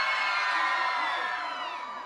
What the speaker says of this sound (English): several hundred strong, is getting pumped and excited and practicing their cheers